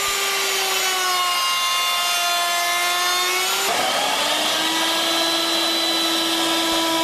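Hand router cutting MDF, a loud continuous whining drone with a pitch that drops slightly as the bit loads, briefly breaks, then settles into a steady tone, with no talk.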